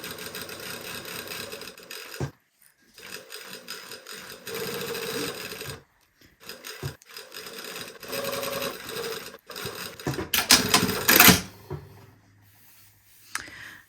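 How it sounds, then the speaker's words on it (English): A sewing machine stitches piping along a previous stitch line, a close, fast mechanical whirr in several runs separated by short stops, with a louder burst near the end before it winds down. "we're just going to stitch right along that previous stitch line"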